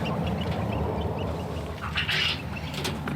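A male quail on a farm gives a short, sharp crowing call partway through, heard over a steady, loud bed of background noise.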